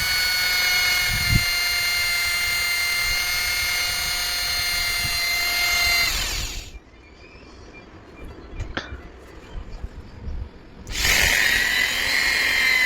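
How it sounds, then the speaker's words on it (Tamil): A power drill boring a small hole in a car number plate whines steadily for several seconds, stops for a quiet stretch, then starts up again near the end. "ஃபஸ்ட்டு ஒரு குட்டி ஓட்டை போட்டுக்கோங்க"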